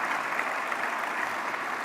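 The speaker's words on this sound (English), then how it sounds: "A big round of applause as we welcome them to our family here at Sathya Sai" An audience at a centenary celebration gathering at Sathya Sai Grama claps in a dense, steady wash of applause, unbroken and moderately loud throughout.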